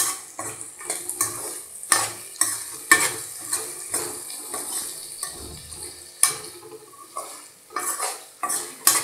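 Onion pieces and green chillies frying in a pan for a gongura fish curry, stirred with a utensil that scrapes and clinks against the metal in irregular bursts over a steady low sizzle, close and with no talking.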